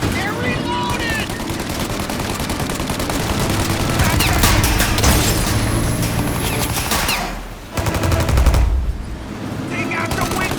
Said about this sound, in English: Shoot the turret, Tom!